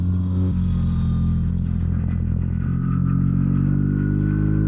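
A BMW R1300RT motorcycle engine while riding, loud and close with a steady droning hum that shifts pitch slightly as the gears change, no voices over it.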